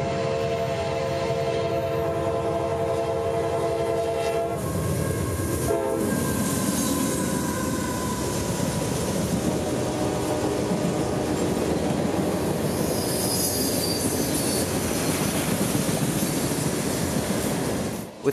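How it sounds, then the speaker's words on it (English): Freight train at night in central Florida passing close by, its horn sounding loudly at the start before giving way to a continuous heavy rumble and clatter of rolling cars. "Last train of the night would come just before 10:30"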